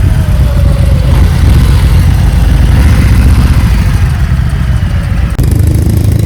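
A Triumph Trident T160 three-cylinder motorcycle idles steadily and close by, a dense low rumble that runs unbroken throughout with no talking.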